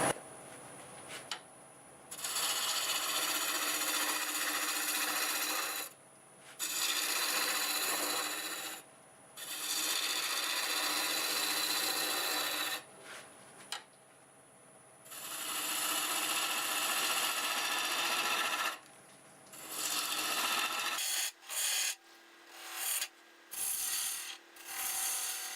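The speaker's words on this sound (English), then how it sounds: "5/8 bowl gouge, and should be doing about 900 RPM." A 5/8 bowl gouge cuts black walnut scrap spinning on a wood lathe at about 900 RPM, giving a steady close rasping scrape in long passes broken by short pauses, then a run of brief choppy cuts near the end.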